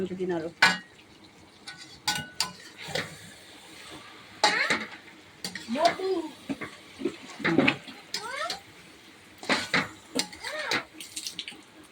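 A spatula scrapes and stirs dal cooking down in a pan with water added, giving intermittent clattering strokes and soft wet sizzling, fairly quiet and close, with no talking.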